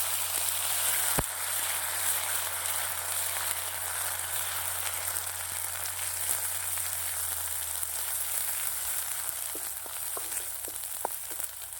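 A paste of ground coconut, garlic and onion with a pinch of asafoetida sautés in a pan over a wood-fired stove, giving a steady, close sizzle with faint crackles and a few sharp pops, no voices.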